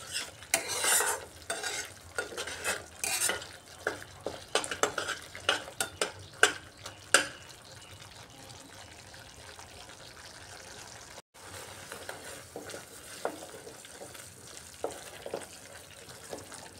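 Masala spice paste is stirred and fried in a pan over a medium gas flame as it dries out, giving irregular scraping strokes and soft sizzling. The bursts are busier at first and then settle into a quieter, steady background.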